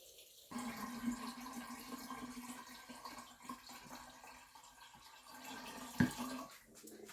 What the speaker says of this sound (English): We change the water.